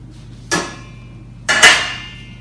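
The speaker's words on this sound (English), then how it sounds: "we're going to put them in a large pot" Candied citrus peels dropped into a large metal cooking pot: two bright clanging impacts about a second apart, the second louder with a short ringing tail, close and alone.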